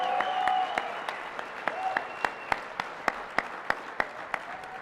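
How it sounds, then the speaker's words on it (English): Applause from a conference audience at a closing session, a steady wash of clapping with sharp individual claps standing out, fairly loud and close, with no talk over it. "Give Troy a round of applause for organizing this every year."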